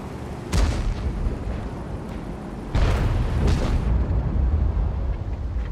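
World of Tanks tank cannon shots: two heavy booming blasts, one early and one midway, each followed by a rumbling roar under steady engine noise, loud and close.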